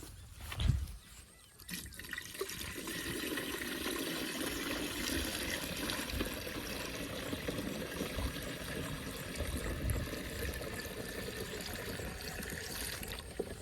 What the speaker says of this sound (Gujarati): પાણી ભરી જાય.